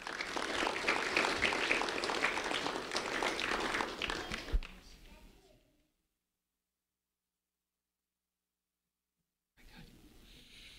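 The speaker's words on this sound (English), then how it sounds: "a round of applause for Alicia" A crowd at a sheriff's office recognition ceremony gives a round of applause for a fourth-grade student, thick clapping that fades out into silence, followed by a quiet room tone.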